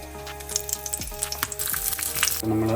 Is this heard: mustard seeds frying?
yes